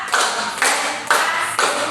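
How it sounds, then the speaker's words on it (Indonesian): A group claps together in a counted clapping game during an Indonesian class session: four sharp, unified claps land evenly about half a second apart, each trailing briefly, with no talk. "mari kita tepuk dulu bersama-sama. Tepuk satu ya. Tepuk satu, tepuk dua, oke"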